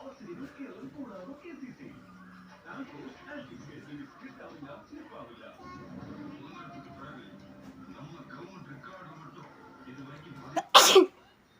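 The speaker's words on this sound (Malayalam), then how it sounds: "ഇട്ട മാത്രമേ ഞാൻ തുമ്മി കേട്ടോ." One person talks quietly for several seconds, then gives a single sharp, loud sneeze close by, followed by a brief pause.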